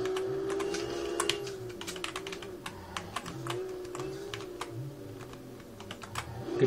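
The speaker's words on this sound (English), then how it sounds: "The steering's a little bit off on the keyboard. You can hear me clicking around there." Rapid keyboard clicking over a steady electronic engine-like drone from the racing game Street Legal Redline Racing, keys tapped in quick irregular bursts for steering, fairly close.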